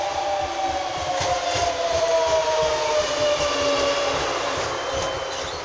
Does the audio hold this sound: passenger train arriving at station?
yes